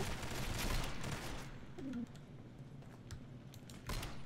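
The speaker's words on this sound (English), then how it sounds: "I survived a grenade, like, on my chest." A grenade blast in the shooter game Combat Arms, a loud burst at the start that fades into a rumbling tail, with scattered gunfire and clicks following.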